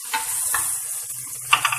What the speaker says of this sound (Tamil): வெங்காயமும் தக்காளியும் நல்லா வதங்கிடுச்சு.